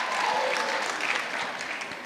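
Dense audience clapping in a hall during a speech night competition, a brief steady burst that fades slightly toward the end.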